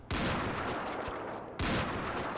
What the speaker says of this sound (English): let's shoot a few bullets